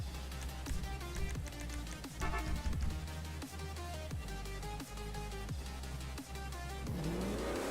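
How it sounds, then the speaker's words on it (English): Bison Hellfire truck engine in FiveM roaring and revving, loud and dense with a bassy drone, repeated throttle bursts and a climbing rev at the end; no voices. "Listen to that engine roar, though."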